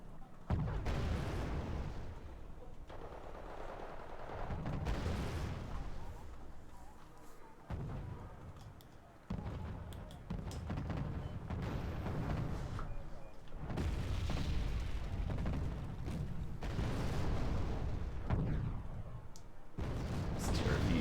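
Heavy tank cannon blasts in a World of Tanks-style match between STRV 103B and STRV 103D tank destroyers, booming repeatedly in bursts under steady commentary voices.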